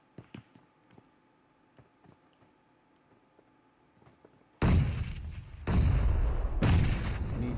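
Grenades bursting in a PUBG Mobile esports match, a quiet stretch of faint clicks giving way to three loud, broad booms that roll on in a heavy sustained roar.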